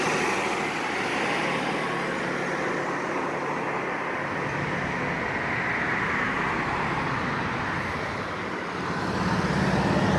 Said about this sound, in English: There's a police vehicle.